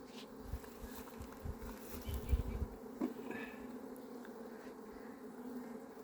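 Italian honey bees buzz at the hive, a faint, steady drone near and around the listener, with soft rustling and handling bumps and no voices.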